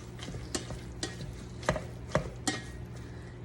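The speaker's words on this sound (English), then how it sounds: "sauteing the ground beef takes a little bit of time" Ground beef browns in a pan for a homemade stroganoff, a low sizzle under several sharp spatula knocks and scrapes against the pan, ending on a louder clack.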